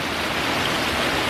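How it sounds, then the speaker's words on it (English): Heavy rain pours down with water draining away, a dense, steady broadband hiss close by, with no voices. "yeah, it's raining hard, but it's draining out of here"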